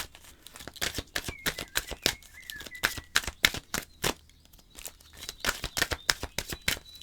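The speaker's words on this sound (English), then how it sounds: "I'll start shuffling." Playing cards being shuffled during a tarot-style reading, a steady run of crisp riffling and snapping bursts at close range with short pauses, no voices.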